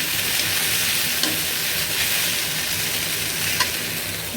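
Shrimp fry in a hot pan, giving a continuous bright sizzle and crackle that stays steady and close throughout, with a few faint pops and no talking.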